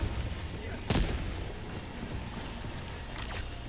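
Impact grenades exploding in the video game Helldivers 2: a sharp, loud blast near the one-second mark with a long rumbling tail, then a few fainter distant bursts, all over a constant low battlefield drone.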